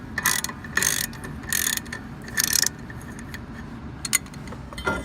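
A ratchet wrench loosening a 14 mm bolt on Mazda Miata brakes, several bursts of rapid clicking close up over a low steady rumble, with a few sharper clicks near the end.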